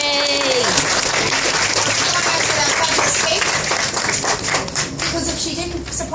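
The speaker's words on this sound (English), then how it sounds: "can you please give Corinne here a big round of applause from the whole team?" A team gathered at a tea duelling event breaks into a big round of clapping, lively and close, with scattered cheers and voices mixed in, and the applause thins out toward the end.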